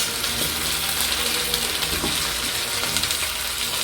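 About six cups of lentils tumble into a pot of lightly browned onions, setting off a steady close sizzle of frying with faint stirring.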